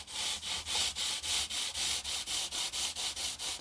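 Sandpaper rubbed back and forth along a guitar neck at a 45-degree angle, a close, even rhythm of about fourteen short scratchy strokes in under four seconds, with no talking.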